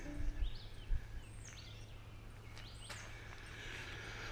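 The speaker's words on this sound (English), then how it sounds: "But listen to the birds." Birds sing outdoors on a Michigan summer morning, a few scattered chirps and whistled calls at moderate distance over a low, steady background hum.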